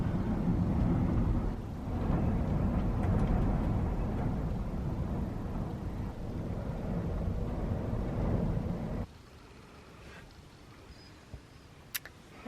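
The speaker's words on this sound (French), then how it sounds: "Il y a tellement de vent." Strong desert wind roars and buffets around a parked van for about nine seconds, loud and gusty, then drops away to a quieter interior with a few small clicks.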